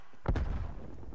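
A grenade blast in Call of Duty Cold War during a multiplayer domination match on the Miami map, a single heavy low thump at close range that booms and then fades into a rumbling tail.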